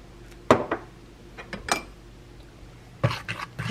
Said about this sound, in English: Get that all mixed in, the buttery goodness.